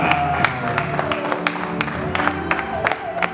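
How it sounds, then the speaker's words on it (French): Wedding guests at a celebration for a couple in Moline cheer and clap at close range, a steady wash of applause punctuated by sharp hand claps, with crowd voices and some tonal music underneath. "on acclame pour eux"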